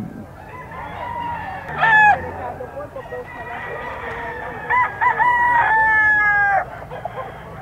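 Roosters crow at a Philippine pet market, two long crows standing out over a crowded background of clucking fowl and market chatter.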